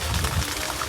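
Water pours steadily down like a natural shower in the Svaneti mountains, a short, close, continuous splashing rush.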